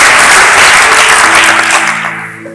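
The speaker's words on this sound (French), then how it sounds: "Est-ce qu'on peut applaudir?" An audience applauds at the close of a French Christian broadcast, a dense burst of clapping that fades away over a couple of seconds.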